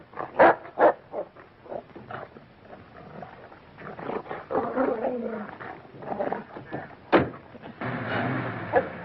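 A dog barks and growls in a rough, repeated series of loud, close yelps and snarls, with short breaks between bursts.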